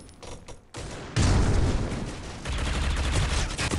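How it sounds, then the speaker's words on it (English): Loud, dense gunfire from the Critical Ops shooter game: sporadic shots at first, then a sustained roar of rapid fire that continues to the end. "I'll try to pre-fire this."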